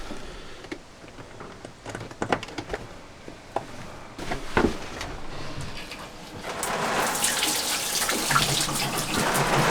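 A water pump fills the tank of a camper van's plumbing system, with scattered drips and splashes at first, then a louder, steady rushing flow of water that builds toward the end.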